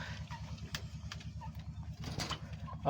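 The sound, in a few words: pigeons cooing on rooftop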